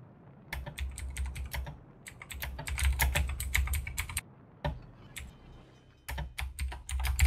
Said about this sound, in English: you want to smack those keys a little louder?